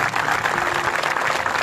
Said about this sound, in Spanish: Y el aplauso que se va al cielo para recordar a este dirigente